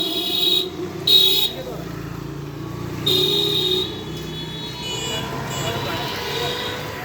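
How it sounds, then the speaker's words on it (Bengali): Busy road traffic at the Dhobaura hospital intersection: a steady close engine rumble with several loud horn blasts and siren-like tones rising above it. "খুব বিজি রাস্তা"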